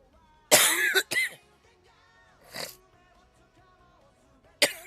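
A person coughs in a video game scene: a harsh double cough, a quieter cough a moment later, then one more sharp cough at the end, close and loud against near silence.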